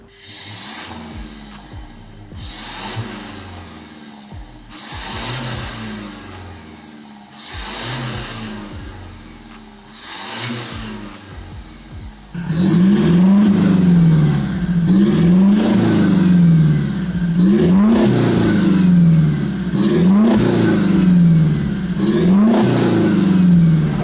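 Toyota Hilux exhaust with only a downpipe fitted, first on the stock exhaust and then with a side-exit MagnaFlow muffler and MagnaFlow dual tips, revved in repeated bursts. The idle and revs sit near and loud, growing deeper and fuller in the second half.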